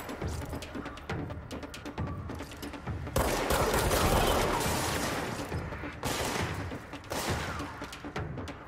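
Video game gunfire crackles in rapid, dense bursts, with a long sustained volley in the middle and mechanical clatter around it, loud and continuous.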